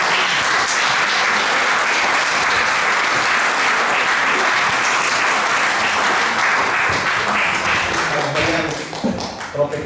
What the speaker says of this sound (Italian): io inviterei il maestro Daniele Sardone con un applauso